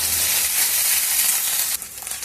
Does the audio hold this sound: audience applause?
no